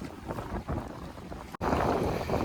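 Strong wind and rain on a river during traditional fishing from a boat: loud, continuous buffeting wind noise across the microphone with a rough, blustery texture, interrupted by one brief dropout.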